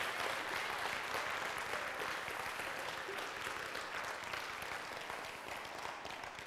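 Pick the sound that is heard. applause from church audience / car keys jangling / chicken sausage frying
applause from church audience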